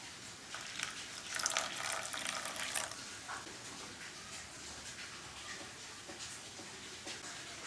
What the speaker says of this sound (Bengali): এই যে আমি একটু গরম জল দিয়ে দিচ্ছি।